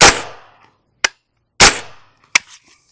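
Two sharp suppressed 9mm pistol-caliber-carbine shots through a HUXWRX multi-cal suppressor, each a crisp crack with a short decaying tail, followed by fainter metallic clacks, loud and close with pauses between.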